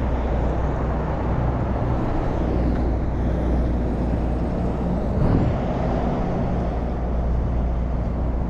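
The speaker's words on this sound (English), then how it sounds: "Pulled out in front of that truck." A truck rumbles along a road nearby in a low, steady wash of engine and tire noise, swelling slightly midway as it passes close, heard alone without talk.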